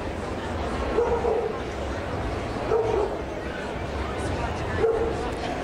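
Terrier barks and yips at an outdoor dog show in the terrier group ring, a few short bursts spaced apart and fairly distant, set against steady crowd murmur and announcer-style talk.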